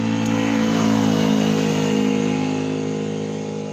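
Trucks and cars roar by on a busy road, their engines forming a loud, sustained rumble that swells and then eases slightly as vehicles move past, with no talking.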